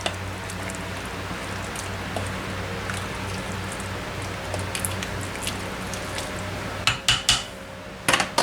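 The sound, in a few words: stirring food in a pot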